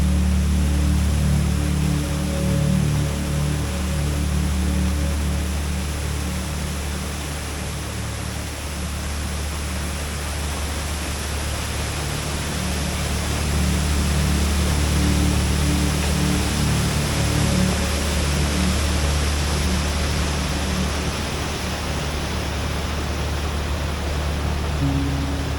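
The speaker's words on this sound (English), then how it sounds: "Well, how cool is Horsepound Falls?" Heavy flow at Horsepound Falls on the Collins River in Savage Gulf, in icy winter conditions, makes a steady, loud roar of rushing water that fills the whole stretch with no voices and only slight swells.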